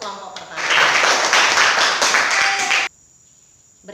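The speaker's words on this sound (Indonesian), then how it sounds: "Aplaus untuk kelompok pertama" Applause for the first group of presenters at a religious study gathering, a dense wash of clapping that swells in, holds steady for a couple of seconds, then cuts off abruptly into near silence.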